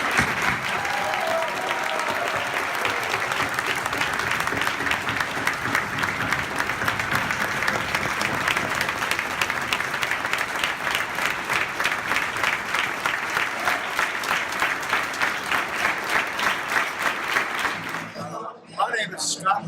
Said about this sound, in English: Let's have a round of applause for Paul Volcker.